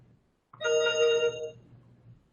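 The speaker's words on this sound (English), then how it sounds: "I see a little chime there everybody can hear." A single bright electronic chime rings out clearly for about a second, with a sustained, steady tone that fades quickly into a quiet room hum. It plays during a lecture exercise on priming.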